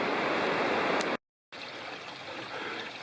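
A small creek drainage along Trail 173 in the Bald River Gorge Wilderness flows in a steady, broadband rushing wash, interrupted by a short gap, then continuing slightly softer.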